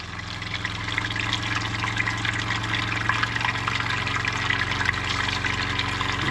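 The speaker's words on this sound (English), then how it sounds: "Now I've got my cold water tap on, and you can see it's pink here, so we've got good flow." Cold water tinted with pink RV antifreeze runs steadily from a tap during winterizing, a continuous close hissing flow with a low pump hum beneath, no talk.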